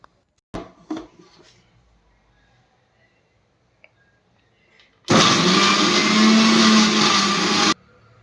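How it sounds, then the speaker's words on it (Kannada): A mixer grinder blends muskmelon, starting after some faint clinks and handling noises and roaring loud and steady for a few seconds before stopping abruptly. "ನಾನು ಸಪ್ರೇಟಾಗಿ ಇದನ್ನು ಗ್ರೈಂಡ್ ಮಾಡ್ಕೊಳ್ತಾ ಇದ್ದೀನಿ"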